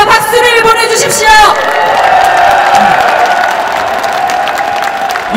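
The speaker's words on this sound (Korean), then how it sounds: "우리와 같은 함성과 박수를 보내주십시오" Convention delegates of the New Politics Alliance for Democracy cheer and applaud in a large hall, a loud sustained crowd roar with clapping and whoops, a voice over the PA at the start.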